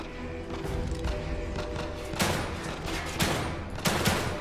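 Gunfire in the horror video game The Evil Within 2, a run of sharp bursts and thuds over a dense, rumbling game soundscape, with louder shots landing around the middle and end.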